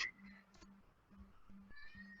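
A house cat meows several times in short, repeated calls amid background talk in an indoor conversation, with a brief higher tone near the start.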